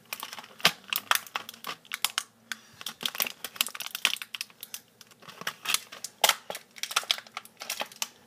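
A Beyblade package being opened and torn apart by hand, with repeated sharp crinkling and ripping bursts of plastic and cardboard, close and fairly loud, in irregular clusters with no talking.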